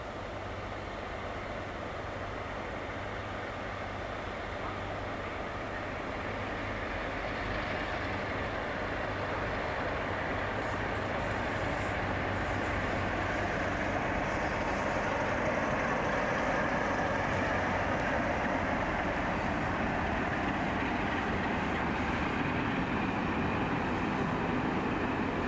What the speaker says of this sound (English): This is the 12:10 cross-country from Bristol to Newcastle.